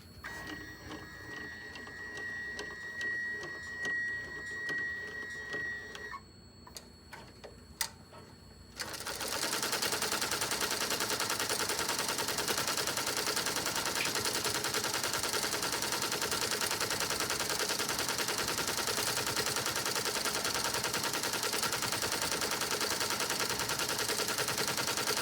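Embroidery machine stitching a gold thread design, a fast steady mechanical needle rattle that starts partway through and runs loud and continuous, after quieter preparatory clicks.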